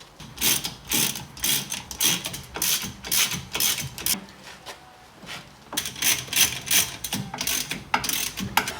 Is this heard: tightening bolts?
yes